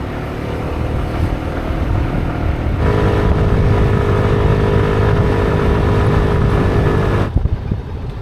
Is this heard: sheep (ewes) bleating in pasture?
no